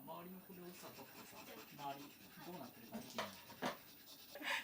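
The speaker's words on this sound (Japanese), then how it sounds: "周囲のバリをですねヤスリで削って整えている様子です" A hand file rasps burrs off the edges of a resin keycap keychain at a build event. Short, close rubbing strokes come under a person talking.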